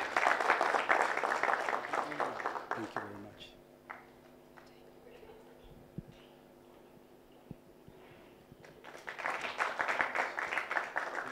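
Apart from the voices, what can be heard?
applause for a professor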